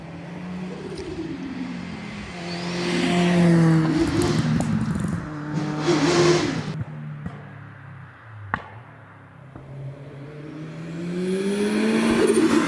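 A Caterham race car accelerates up a hillclimb course at Doune, its engine rising through gears with loud revving and shifts, passing close before fading and building again.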